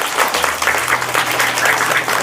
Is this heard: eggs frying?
no